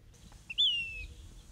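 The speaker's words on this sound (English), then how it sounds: "One is the sage phoebe that's sitting right in the top of an old mulberry tree up here." A single clear, high call of a Say's phoebe, a thin whistled note sliding slightly downward, heard once against a quiet outdoor background with low rumble, in Arizona.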